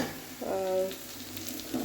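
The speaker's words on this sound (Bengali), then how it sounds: "বিট আর গাজর ভাজা বসিয়ে দিয়েছি" Beetroot and carrot frying in a pan, a steady close sizzle with faint stirring scrapes, continuous and moderately loud with no talking.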